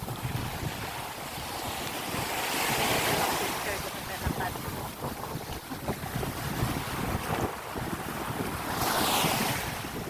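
Ocean waves wash in and break in slow surges, with gusty wind rumbling across the microphone throughout.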